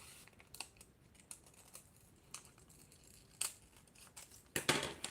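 Paper pattern for a zip-up cardholder being cut, quiet close snips and crinkles in short irregular bursts, faint overall with a few louder cuts near the end.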